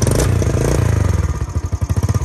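A motorcycle engine is started and revved, a loud close chugging rumble whose pulses grow slower and more distinct as it revs and falls back, with clattering and no talk.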